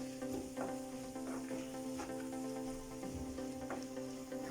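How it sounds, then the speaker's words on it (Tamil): Mushroom noodles tossed with schezwan sauce in a pan, a soft steady sizzle with repeated scraping stirs of a utensil, close and moderately quiet, with a faint hum beneath. "எல்லா இடத்துலையும் நல்லா மிக்ஸ் ஆகிற மாதிரி கிளறி விட்டுட்டு"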